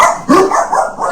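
A dog barks at home in a quick burst of several loud, close barks mixed with yips, with no talk over them.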